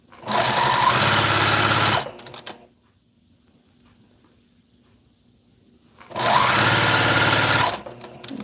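Two loud, close bursts of a sewing machine stitching a fold, each about two seconds of fast steady rattle, with near silence and faint fabric handling between them.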